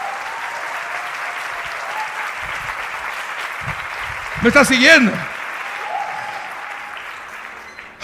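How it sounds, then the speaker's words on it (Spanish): Sustained clapping from a church congregation at a Reformation anniversary sermon fills the room at steady volume, with a preacher's voice cutting in briefly over it midway before the applause tapers slightly at the end. "Si vas a aplaudir, aplaude en serio."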